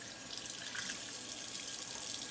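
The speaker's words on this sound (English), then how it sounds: "I'm going to rinse them with my fingertips pointing down to avoid" Running water from a faucet splashes steadily as hands are rinsed with fingertips pointing down, a continuous hiss held at an even level throughout, with no voices.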